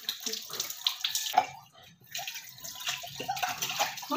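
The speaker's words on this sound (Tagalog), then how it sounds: "So, mag-start tayo sa paghuhugas ng ating plato." Water running from a broken kitchen tap with a cloth tied around it while dishes and plates are washed, a steady splashing stream with scattered clinks and soft knocks of plates, fairly close.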